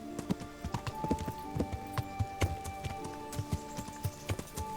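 Horse hooves clip-clopping in a quick, uneven gallop rhythm in the video game Kingdom Come: Deliverance, close and fairly loud, with a faint steady tone and clutter behind.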